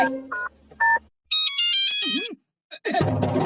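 A phone ringtone plays in short melodic bursts, a few tones then a brighter repeating jingle, followed by a burst of noise at the end.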